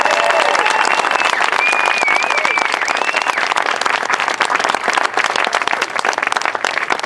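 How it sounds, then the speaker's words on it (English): Loud, sustained applause and crowd noise at a Coast Guard recruit graduation at Training Center Cape May, dense clapping filling the hall with a few whistles rising above it, steady throughout. "Ladies and gentlemen, would you please join me in a round of applause for my entire staff at Training Center Cape May."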